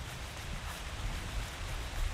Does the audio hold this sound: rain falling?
yes